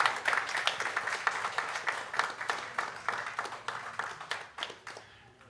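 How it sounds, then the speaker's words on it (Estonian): Applause at a basketball press conference for the Viimsi club: a room of hands clapping steadily for several seconds, dense at first and slowly thinning, with no talk over it. "Hetkel aga aplausi koht."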